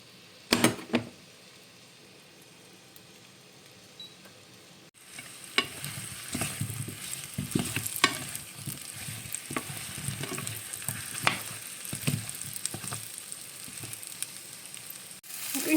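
Apples roasting in melted butter in a pan: after a quiet start with a couple of knocks, a close, steady sizzle and crackle sets in, with stirring scrapes over it.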